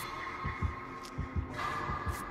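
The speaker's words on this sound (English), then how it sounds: "Oh no, I hear the heartbeats." The pulsing heartbeat warning from the Dead by Daylight video game throbs in a steady double-beat rhythm, low and persistent over a constant hum, with no voices.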